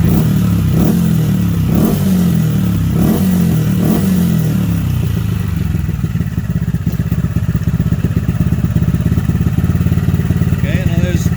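Honda Grom MSX125 motorcycle engine idling as it warms up, its close, loud pulsing beat at first, then blurring into a denser, rougher drone with some clatter, someone speaking over it.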